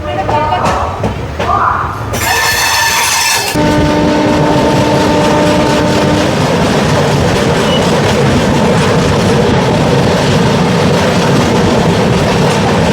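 The Rupasi Bangla Express on the Purulia–Howrah line sounds a loud, sustained horn blast near a crossing, then the train's rolling rumble and clatter carry on steadily and close.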